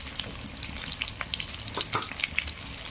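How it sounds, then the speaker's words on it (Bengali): Potato pieces with turmeric and salt fry in hot oil in a kadai, giving a close, busy sizzle with sharp crackles and pops scattered throughout and no voices. "এবার দিয়ে দিলাম আলু, তারপর দিলাম হলুদ গুঁড়ো, তারপর দিলাম লবণ,"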